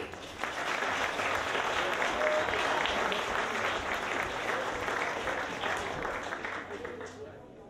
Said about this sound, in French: Une bonne main d'applaudissement pour Al Drapeau.